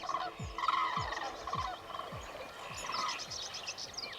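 A crane family at their final breeding grounds in Sweden, after flying from North Africa. Repeated loud, close calls carry a steady pulsing rhythm over background noise.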